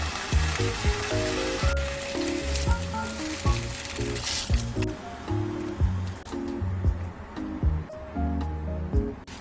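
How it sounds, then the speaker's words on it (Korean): Two slices of ham frying in a pan over medium-low heat, a steady close sizzle with background music playing over it throughout. "슬라이스 햄 2장도 중약불에서 앞뒤로 노릇해질 때까지 구워주세요."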